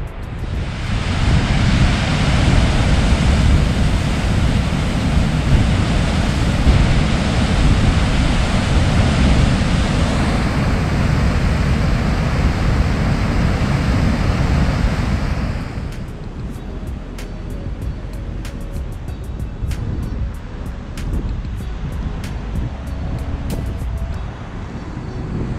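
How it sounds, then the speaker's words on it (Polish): Dynjandi waterfall in Iceland gives a steady, loud broadband roar for about fifteen seconds, then turns softer and more distant, with light wind buffeting and scattered ticks. "Jak widzicie, wodospad Dynandi jest"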